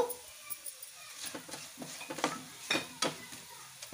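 Bitter gourd pieces fry in a pan while a utensil stirs them, giving soft sizzling under a series of light scraping and clinking strokes, close and fairly quiet.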